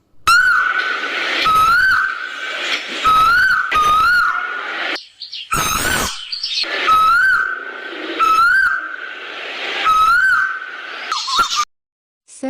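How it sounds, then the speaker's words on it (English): A cuckoo repeats its call again and again in a steady rhythm, each loud, clear, whistled two-note phrase following the last with short gaps, close and unaccompanied. "What is the sound made by cuckoo?"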